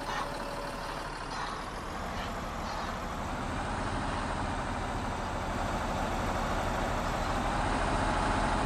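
A tractor engine in Farming Simulator 19 drones at a steady load, low and continuous, while ploughing a field. It is loud and close, with a faint beep running over it.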